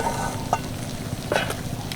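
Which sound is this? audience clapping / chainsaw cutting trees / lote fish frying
lote fish frying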